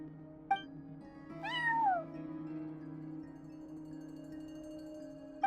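A cat meows at a front desk in the video game Genshin Impact, a single clear, drawn-out meow over a steady ambient hum, with a soft click before it and no speech.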